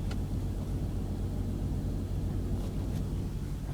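A BMW 528i idles rough after a cold start, a low, continuous engine rumble with an uneven, shaking undertone, heard steadily and at moderate volume with no talking.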